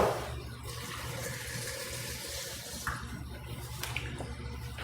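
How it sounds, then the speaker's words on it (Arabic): Water poured from a glass into a cooking pot in a kitchen, a faint, steady splashing trickle lasting several seconds with a few small clinks near the end. "حط نص كاس مية"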